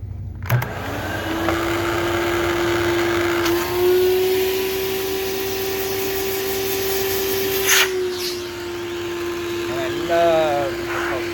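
A Hoover Celebrity vacuum cleaner runs steadily with its power nozzle and beater bar on carpet, a loud, continuous whine with a shift in pitch partway through, close up.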